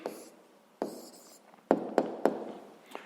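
Pen strokes writing an answer by hand on paper during a sixth-grade math exercise: faint scratching with several sharp taps, quiet and close, with no talking.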